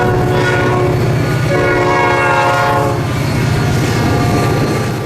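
A US Sugar Corporation cane train rolls past near Clewiston, Florida, its loud horn blaring over the rhythmic clatter and rumble of passing cane cars close by, continuous and without talk.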